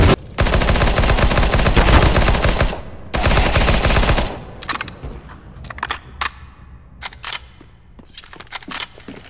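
Machine gun fire in the shooter game CS:GO, two long loud sustained bursts of rapid rattling shots, followed by scattered single shots and short bursts further off.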